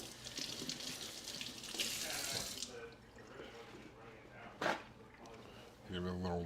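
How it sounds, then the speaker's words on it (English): A kitchen tap runs water over an eggplant being rinsed, a steady hissing splash for a few seconds that stops, followed by handling noises, a short burst, and a voice speaking at the end. "Gonna grab our big boy eggplant here. Our big boy. We'll give this a little rinse off."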